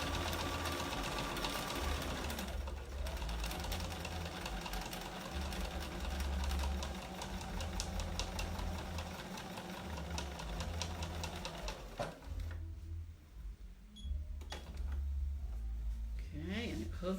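Sewing machine runs a wide stitch on oven mitts, a steady close mechanical whir with rapid needle pulsing that goes on nearly nonstop, broken by brief pauses near the end, with a voice talking in places.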